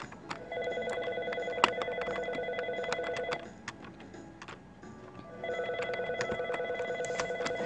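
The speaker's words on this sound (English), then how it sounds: "Sorry for the phone ringing." A telephone rings in bursts of a steady electronic tone, two long ringing stretches separated by a short pause, fairly loud against faint background noise, with no talking over it.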